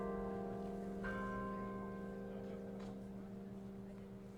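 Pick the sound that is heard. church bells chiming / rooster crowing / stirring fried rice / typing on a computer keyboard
church bells chiming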